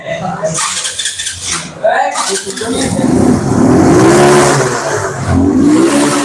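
A like-new Indian motorcycle with a never-opened engine, shown at a night sale, revs loudly and repeatedly, its rising and falling engine pitch overlapping with someone talking close by.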